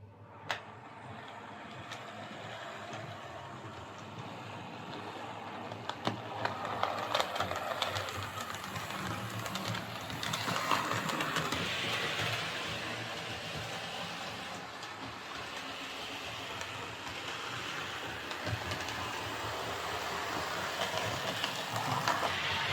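A Wrenn W Class 4MT model train locomotive runs on a layout, giving a steady electric motor whir and rattling wheel clatter on track that rises and falls as it moves, continuous and close with no speech.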